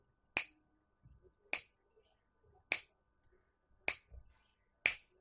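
Five crisp finger snaps, spaced roughly a second apart in an even rhythm, close and clear against near silence.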